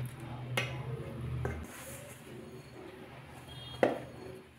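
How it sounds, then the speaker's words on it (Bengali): Flour, sugar and oil mixed with water and kneaded by hand into dough for egg rolls make soft, quiet squishing and rubbing sounds, broken by a few light clinks of a bowl or utensil. "एबार जल दिये मेखे नेब।"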